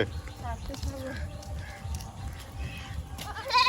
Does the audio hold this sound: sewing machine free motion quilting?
no